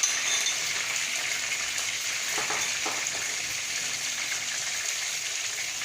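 Onion dropping into a hot pan while making pasta, a steady bright sizzle of frying with a few brief clatters, close and even, no talk.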